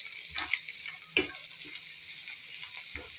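Noodles with cucumber and a pinch of salt in a pan: a faint, steady sizzle with a few soft ticks and stirring clicks, quiet and close.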